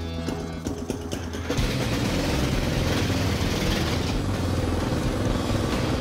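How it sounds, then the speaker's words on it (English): An old lawnmower retrofitted with a bigger engine runs loudly close by, a rough low engine drone that starts with sputtering knocks and then settles into a steady, heavy roar. "So this right here is an old lawnmower that I kind of have retrofitted with a little"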